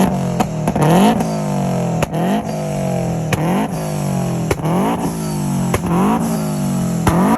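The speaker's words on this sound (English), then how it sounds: "it's super loud and very rumbly. It has that nice Subaru rumble." A loud 2022 Subaru BRZ exhaust with UEL headers revs repeatedly in short bursts, each rising then snapping off, with a deep rumble idling between the blips.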